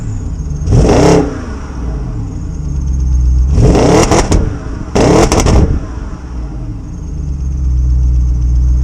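A salvage BMW car engine cranks and catches, then revs in three loud bursts over a steady idle, each rise and fall clearly separated, with no talk over it.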